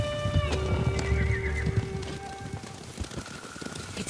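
Horses approach in the video game Ghost of Tsushima, with steady clip-clopping hooves and a loud whinny rising over the rumble, no voices.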